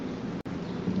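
Rain falls outdoors at a gathering as a steady broadband hiss with a low rumble. It is brief and continuous, with one momentary dropout.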